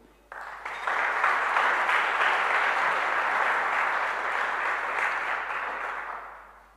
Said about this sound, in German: herzlichen Applaus auch für Sie